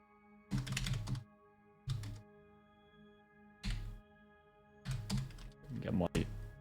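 Bursts of typing on a computer keyboard, several rapid clattering runs separated by short pauses, close and fairly loud with a steady hum underneath.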